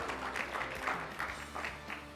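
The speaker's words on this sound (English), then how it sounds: "Let's give him a round of applause and welcome him to Weslaco High School." Quiet applause from a crowd at a Weslaco High School proclamation ceremony, greeting a State Board of Education guest with soft, irregular clapping bursts over a low background hum.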